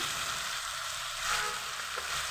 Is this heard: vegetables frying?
yes